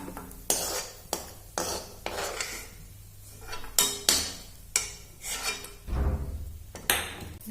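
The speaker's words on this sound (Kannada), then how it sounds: "ತೆಗೆದ್ಬಿಟ್ಟು ಒಂದು ಪ್ಲೇಟಲ್ಲಿ ತೆಗಿತಾ ಇದ್ದೀನಿ" Golden fried paneer and cashews are lifted from a pan onto a plate with a metal spatula, producing a run of close, sharp scrapes and clanks in uneven rhythm, with a soft sizzle and a low hum underneath.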